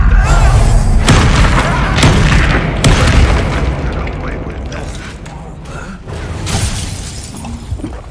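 Confringo fire-blast spells explode in Hogwarts Legacy, a loud run of booming, crackling bursts with shattering debris layered over game noise and voices.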